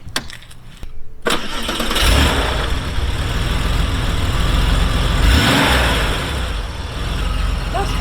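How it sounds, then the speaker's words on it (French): A Porsche 964 engine cranks and catches, then settles into a loud, steady rumbling idle close by, with a rise in revs midway. "Tu nous la démarres déjà? Oh, regarde ce petit moteur tout neuf."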